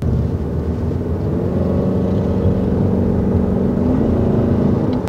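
A 2024 Toyota RAV4 plug-in hybrid SUV accelerating gently, giving a steady low engine and road drone from inside the cabin that holds at an even loudness throughout.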